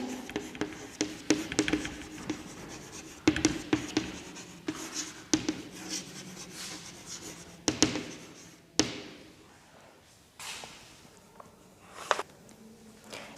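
Marker or chalk writes on a board in a classroom lesson, with irregular scratchy strokes and taps spread through the stretch, some louder knocks among them, close and fairly quiet with no speech.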